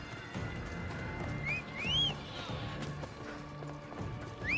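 A horse in the video game Assassin's Creed Odyssey gallops with steady hoofbeats, and a whinny rises near the middle, set against a faint game ambience and music.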